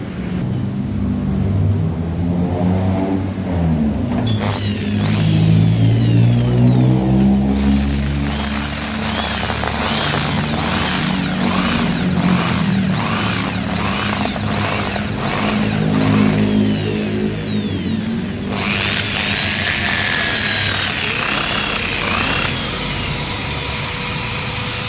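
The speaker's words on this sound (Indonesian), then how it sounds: "Oke, kita bor dulu." A power drill whirs loudly and continuously while drilling a Honda scooter's brake parts, its pitch rising and falling as the motor speeds up and slows down.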